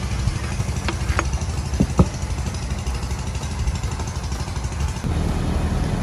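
A repaired wooden boat engine runs steadily with a low, even droning hum, with a few sharp clicks early on and a slight rise in level near the end.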